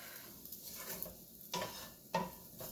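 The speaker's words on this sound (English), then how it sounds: "I'm roasting in the same pan. Just a little crispier." Carrots roasting in a pan until crisp, with a soft steady sizzle, faint stirring, and a few sharp clinks of a utensil against the pan, fairly quiet and close.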